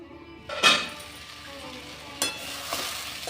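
Radish and pumpkin pieces cooking down in a pan, a soft continuous sizzle punctuated by a few sharp clinks of a utensil against the metal.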